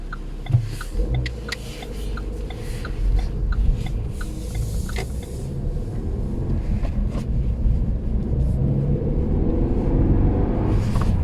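A Renault Megane 3 RS Trophy 265 cruising gently, its low engine rumble steady and close with road and wind noise, the turbo barely coming in as the car rolls along.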